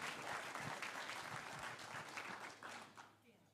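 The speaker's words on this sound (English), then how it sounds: "give them a round of applause and tell them thank you for being here today" A seminar audience applauds together in a steady wash of clapping that holds and then tapers off near the end, with a voice speaking faintly over it.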